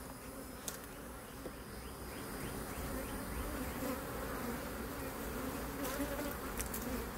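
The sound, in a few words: honeybees buzzing during hive inspection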